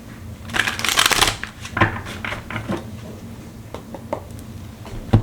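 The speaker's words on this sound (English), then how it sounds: "And one more shuffle." Tarot cards from a crow deck are shuffled by hand close up: a dense riffling burst, then scattered softer slides, taps and card snaps.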